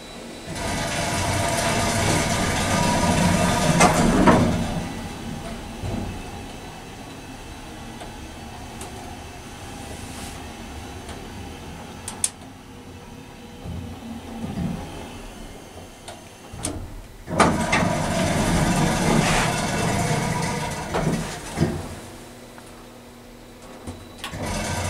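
An Atlas hydraulic elevator motor in an apartment building hums and rumbles continuously, with louder surges near the start and end and occasional clunks and thumps from the machinery.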